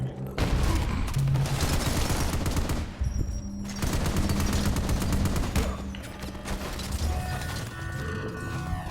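Loud, rapid gunfire from a multiplayer shooter video game crackles in dense bursts almost without a break, with a few brief mechanical clicks in the mix.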